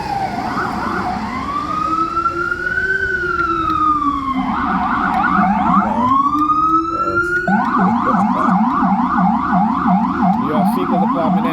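A New York ambulance siren wails and switches between long swooping tones and rapid yelping patterns, loud and close as the vehicle passes along the street.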